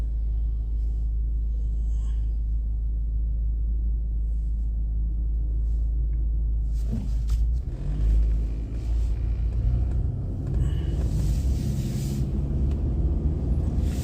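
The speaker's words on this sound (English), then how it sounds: "A lot of traffic here." Road traffic passes in the rain in California, a steady low rumble of cars on wet pavement that swells louder midway as vehicles go by close, with hiss and splash over the drone and no talk.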